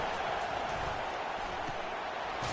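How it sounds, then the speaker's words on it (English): A packed football stadium crowd roars steadily at an Ohio State Buckeyes versus Alabama game, a dense, sustained wall of noise that holds at full strength throughout with no break. "Listen to this crowd just shaking the girders of this place,"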